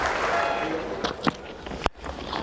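A cricket crowd at McLean Park, Napier, applauds and cheers Tim McIntosh's first Test century against the West Indies in 2008, a broad, steady roar with a few sharper claps standing out.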